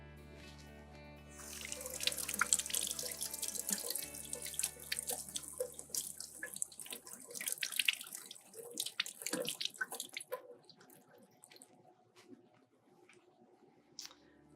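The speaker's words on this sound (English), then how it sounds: "I'm going to go on and give these a little bit of a wash though" Running water from a kitchen tap splashes steadily over sandy organic vegetables being rinsed, with drips and small handling clatters, loud for about ten seconds before tapering to quieter trickles.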